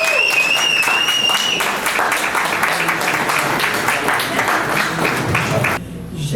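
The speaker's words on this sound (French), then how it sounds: "Je vous propose de féliciter encore une fois et d'applaudir Marie-Élise." Audience applauding the painter Marie-Élise at a celebration of her sixty years of painting, dense loud clapping with a few brief cheers early on, cutting off abruptly near the end.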